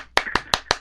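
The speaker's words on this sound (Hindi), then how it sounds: "आप तुरंत मच्छर को मारने के लिए ताली बजाते हो" Four sharp hand claps in an uneven rhythm, swatting at a mosquito, each a crisp close slap with a short gap between, heard alone with no talk.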